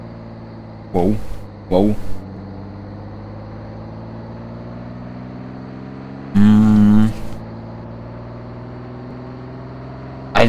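A large truck engine in the video game Roblox drones with a steady, humming tone that holds throughout, while a person speaks in a few short bursts over it.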